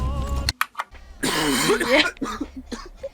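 Harsh, close coughing in a Rainbow Six Siege gaming session, a few loud hacking bursts with throat clearing, mixed with voices talking and a brief laugh.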